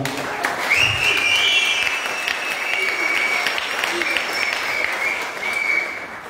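A church congregation at an anniversary Mass in an Ekouk parish breaks into sustained, dense applause that swells quickly and holds steady, with cheering voices mixed into the clapping.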